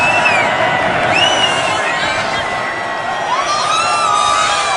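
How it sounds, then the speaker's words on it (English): A friendly crowd at the 2016 Army vs Navy football game cheers and screams steadily throughout, a dense roar with whoops and shouts rising above it, loud and continuous. "They're all screaming, "Make America Great Again.""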